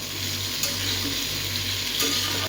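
Food fries in a pan with a little salt added, giving a steady, close hiss of sizzling oil broken by a few faint clinks of the pan.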